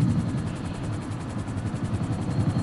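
A helicopter in the video game GTA 5 gives a steady, continuous rotor whirr and engine drone with no talking over it.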